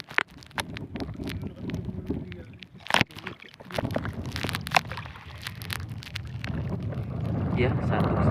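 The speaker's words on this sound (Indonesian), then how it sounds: "Anginnya kencang sekali." Strong wind gusts buffet the microphone at sea aboard a small fishing boat hauling nets, a rough continuous rushing roar with thumps and splashes, and people speak over it.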